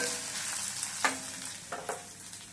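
Dried red chillies and urad dal frying in a pan for a mint-coriander chutney, a constant close sizzle broken by a few soft stirring scrapes, no talking.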